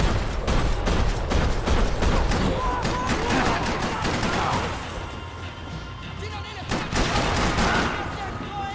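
Golden PT-92 pistol fire in the video game Max Payne 3, rapid overlapping shots in a stadium firefight. Dense, loud bursts fill the first half, then sparser cracks follow, with a voice shouting over the shooting.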